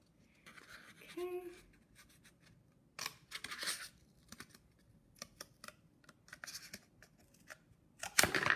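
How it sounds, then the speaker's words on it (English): Scissors cutting a paper circle in half: a series of close, crisp snips and paper rustles in short bursts, with a brief voiced sound early on and a louder crinkle at the end. "I'm gonna very carefully cut this circle in half"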